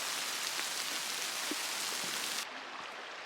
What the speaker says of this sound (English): now all the hail's coming down